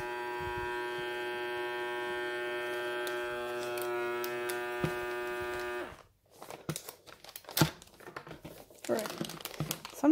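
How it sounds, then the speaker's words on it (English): A vacuum sealer runs with a steady electric motor hum as it draws air from a bag for several seconds, then stops, followed by crinkling plastic and handling noises close by. "So I'm going to press the vacuum seal."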